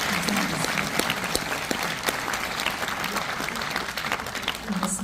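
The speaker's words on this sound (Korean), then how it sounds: "세 분께 여러분 다시 한번 뜨거운 박수" Concert audience at a peace music concert in a hall applauding warmly, dense sustained clapping filling the room with scattered sharper claps, steady throughout.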